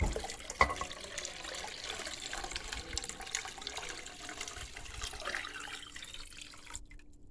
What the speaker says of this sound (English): Alright, now we're gonna go ahead and pour it into our crock pot.